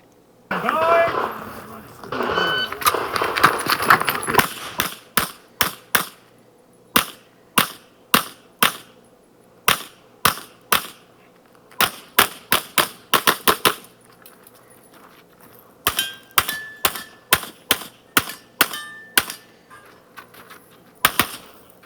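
Pistol shots ring out on a field course stage at a USPSA sectional match in large outdoor bays. Sharp, loud reports come in rapid strings and scattered pairs with short pauses between them, and talk and movement noise come first.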